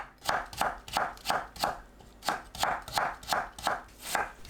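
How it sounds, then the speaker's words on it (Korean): A knife cuts carrots into thin strips on a cutting board in quick, evenly spaced chopping taps, about a dozen close, crisp strokes with a brief pause midway. "당근을 채 썰어줍니다."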